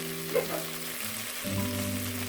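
Maggi noodles fry with masala in a pan, giving a soft, steady sizzle with a brief clink near the start, close and fairly quiet, with no talking.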